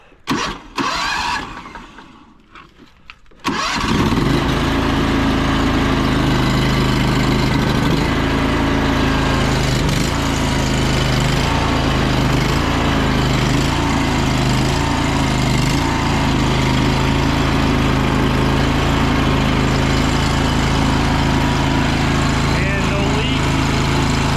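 A soft-wash rig's engine, set up with a chem tank and a buffer tank, sputters on after a few seconds of rattling, then runs at a loud, steady drone close by for the rest of the clip.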